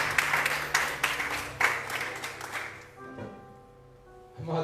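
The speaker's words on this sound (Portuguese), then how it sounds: "Aplauda o Senhor." A church congregation breaks into brisk, dense clapping for a few seconds, then the applause thins out and fades as the room quiets.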